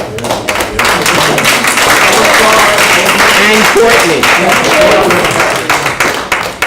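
Audience at a political meeting in Hawai'i breaking into applause: dense, loud clapping from many hands sustained for several seconds, with a voice speaking briefly at the start over it.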